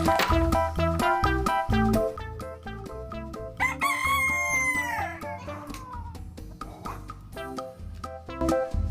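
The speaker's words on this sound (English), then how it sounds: "rooster." A cartoon rooster gives one long, drawn-out crow midway through, loud over bouncy background music in a children's animal-learning tune.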